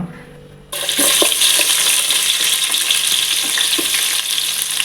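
Onions dropped into about half a litre of hot oil for chicken biryani, erupting at once into a loud, steady sizzle with scattered crackles and pops that continue close by without talk.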